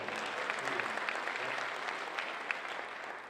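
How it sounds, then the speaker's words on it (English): An auditorium audience at a conference session claps steadily for a few seconds, a dense even patter of many hands without voices. "how about a round of applause for our near-dead guy"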